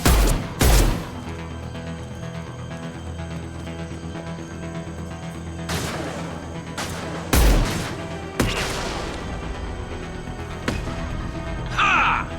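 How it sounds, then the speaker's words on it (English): Concussive shots and gunfire in the video game Mass Effect ring out in several sharp, loud bursts spaced across the scene, with booming impacts over a low steady background hum. "Firing concussive shots!"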